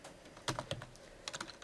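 Typing on a computer keyboard during a programming class, heard as irregular bursts of soft, close key clicks with short pauses between clusters and no talk.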